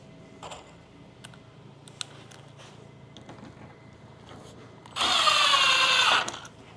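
A cordless drill drives a 1 5/8 inch screw into a 2x4 in one loud, steady whirring burst of about a second near the end, after scattered light taps and handling clicks.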